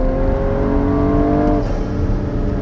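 A tuned 390 whp BMW M135i sleeper runs hard under throttle, its engine and turbo whine loud and steady, then drops in pitch as the driver lets off near the end.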